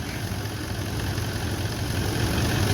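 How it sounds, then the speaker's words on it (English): A Toyota 200 series VDJ200R diesel engine idles steadily after a water pump replacement, a constant low rumble with even vibration throughout and no voices. "just let it idle for a bit"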